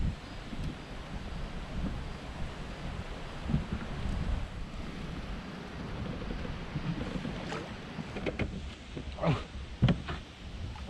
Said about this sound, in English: The wind's blowing about 15 miles an hour